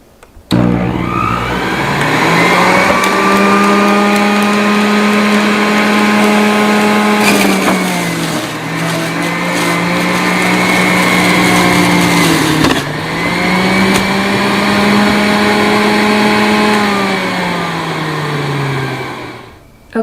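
A Hamilton Beach Big Mouth juicer on its high setting whines loudly and steadily while juicing a thick carrot, the motor pitch dipping briefly twice under load before recovering and then winding down at the end.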